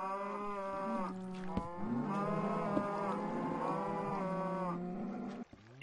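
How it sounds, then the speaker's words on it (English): Cows in the Minecraft video game give drawn-out lowing moos, several overlapping calls that follow one another steadily and sound close and clear, with no voices. "Frickin' stupid cows."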